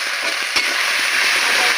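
Ginger-garlic paste hits browned onions in a hot pan, giving a steady, close hiss of frying with a brief spoon knock partway through, and no voices.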